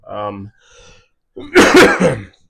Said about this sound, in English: there we go, coughing again